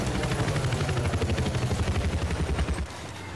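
A helicopter in the Battlefield 4 video game, rotor chop pulsing loud and steady, with bursts of gunfire mixed in before it cuts off near the end.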